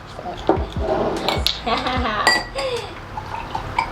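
Glasses and cups clink while coloured drinks are poured and mixed together, with sharp chinks and liquid splashes mixed into a woman's chatter close by.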